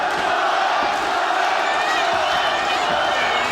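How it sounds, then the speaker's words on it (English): A boxing crowd chants the name of boxer John O'Donnell during his fight with Craig Watson, a dense, loud, continuous roar of many voices filling the arena with no pause. "O'Donnell is the chant of the crowd."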